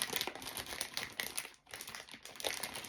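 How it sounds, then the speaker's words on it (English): A cover photo crinkles and rustles as it is handled close by, quiet irregular paper crackles with a short pause midway, no talk. "Do I have the cover photo here without too much rustling?"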